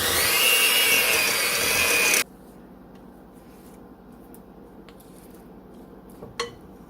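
Mixing no-bake peppermint cheesecake filling, a loud, steady whirring for about two seconds that stops abruptly, followed by near quiet with faint clinks and a brief knock.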